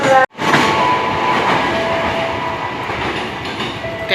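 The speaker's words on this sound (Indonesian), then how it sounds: "Jalur 1 segera masuk tujuan akhir stasiun Bogor rangkaian 12 kereta." A twelve-car KRL commuter train on the Bogor line arrives at Bogor station with a loud, continuous rumble and rail clatter. There is a brief dropout near the start, and no voices.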